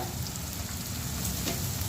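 Onions frying lightly in a pan until reddish, the start of a Bengali Chicken Maharani, give a steady, dense sizzle that stays close and even throughout, with no voices.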